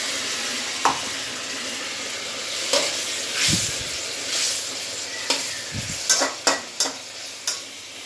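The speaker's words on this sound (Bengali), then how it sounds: "একটু জল দিয়ে পটলগুলো একটু সিদ্ধ হয়ে নেবে।" Pointed gourds simmer with a little water in a pan, giving a continuous soft bubbling hiss broken by several sharp spoon taps and scrapes against the pan, with no talking.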